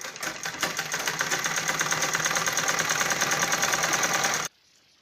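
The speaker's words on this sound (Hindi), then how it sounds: "मैं ये पूरे नेफे को ऐसे सिल के तैयार कर लूँगी" A sewing machine stitching the waistband of a balloon salwar runs in a fast, steady mechanical whir close by, then stops abruptly near the end, leaving near silence.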